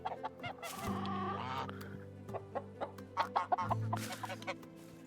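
A flock of chickens clucks loudly and busily up close, with overlapping squawks and bursts of cackling in an uneven rhythm and a rooster sounding among them.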